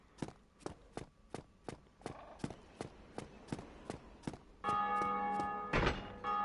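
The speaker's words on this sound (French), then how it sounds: "dès qu'on entend là une cloche sonner" A bell tolls in the video game Dark Souls Remastered, about a dozen sharp evenly spaced strikes, then a sustained ringing swell with a heavy thud near the end.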